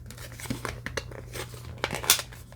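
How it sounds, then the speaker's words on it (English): Plastic parts of a 1/12 scale Dark Knight Bat-Signal model kit snap into place, giving a few soft, close clicks and crinkly handling noises over quiet room tone. "then you just basically click those into place"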